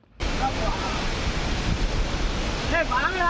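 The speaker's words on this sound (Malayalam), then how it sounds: "നല്ലൊരു യമണ്ടൻ വെള്ളച്ചാട്ടം" Constant rushing roar of a waterfall on the way to Vagamon, Kerala, loud and close, with a few faint voices calling out over it.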